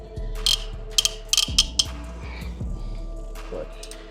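A ratchet tightens a V-band clamp on an MK7 GLI downpipe, giving short bursts of sharp clicks with brief pauses between strokes over a low background hum.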